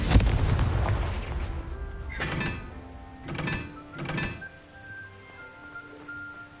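The Confringo fire spell in Hogwarts Legacy goes off in several separate booming blasts, a heavy impact followed by three more evenly spaced bursts, each with a short fading tail and faint ambient game music beneath.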